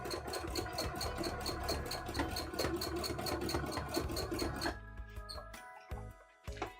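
An embroidery machine stitches fast and steadily with a dense mechanical whir and rapid needle pulses, then the stitching stops partway and only quieter motor whine and small clicks remain; no one speaks.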